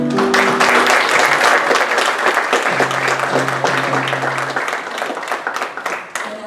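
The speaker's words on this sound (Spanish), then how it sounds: "Un aplauso" Sustained applause from an audience at the closing of a painting exhibition, greeting performers taking the stage, loud and dense throughout and gradually thinning toward the end, with a low tonal hum running under part of it.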